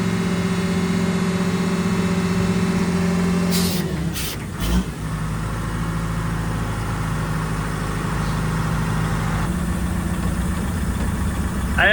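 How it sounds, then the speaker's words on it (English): A motorcycle engine idles steadily and fairly loud up close, its low rumble broken by a few sharp knocks and a shift in tone partway through, then settling back into a steady idle. "there's your motorcycle"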